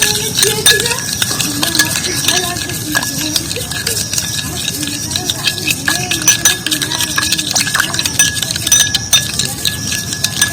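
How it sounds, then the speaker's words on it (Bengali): A spoon stirring sugar into papaya juice in a small container, steady rapid clinking and scraping against the sides, close and fairly loud, with no voices. "চিনিটা এইভাবে একটু গুলে নেবো পেঁপের রসের মধ্যে।"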